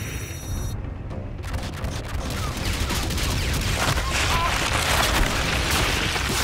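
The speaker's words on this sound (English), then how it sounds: "Fire missiles." A sustained barrage of missile fire in Call of Duty: Infinite Warfare, dense booming and crackling explosions building in intensity after a brief quieter lead-in.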